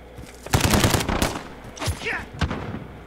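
Bursts of automatic gunfire from Call of Duty Modern Warfare: a loud volley of rapid shots, then two shorter, sharper bursts after brief pauses, with no voices over them.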